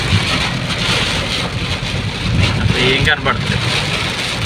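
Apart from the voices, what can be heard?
very heavy rain in Tanuku town centre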